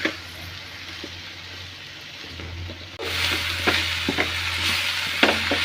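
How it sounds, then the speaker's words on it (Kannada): Chopped basale greens stirred with dal in a hot pan give a soft sizzle that grows louder partway through, with close spatula scrapes and clinks against the pan. "ಚೆನ್ನಾಗಿ ಈ ರೀತಿಯಾಗಿ ಮಿಕ್ಸ್ ಮಾಡ್ಕೊಳ್ಳಿ."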